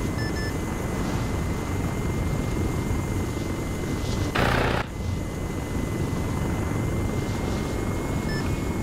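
A Chinook helicopter in a military video game drones steadily with a continuous, rumbling rotor and engine noise, close and constant, broken briefly by one short burst of louder noise partway through.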